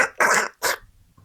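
A human voice imitates a submersible hull creaking and groaning, making two drawn-out rough vocal groans followed by a faint trailing rumble, close and loud.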